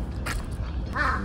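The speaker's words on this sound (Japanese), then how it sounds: "カラスさんも来てくれてます。" A crow calls out in Kiyosumi Park in Tokyo during the morning, giving a single harsh, nasal caw close by against steady outdoor background noise.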